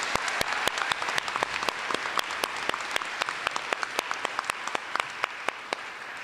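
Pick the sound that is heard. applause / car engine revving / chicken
applause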